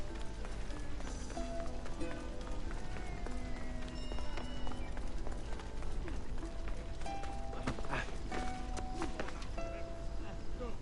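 Horse hooves clip-clopping at a run in Assassin's Creed Odyssey, a fast continuous rhythm of hoofbeats mixed with game sounds, with voices talking over it.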